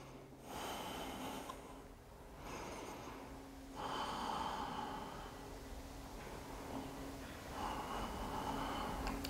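Deep, steady belly breathing held during a yoga core exercise for lower back strength, with several long, audible inhales and exhales, some with a snorting nasal quality, close and fairly quiet with no talking.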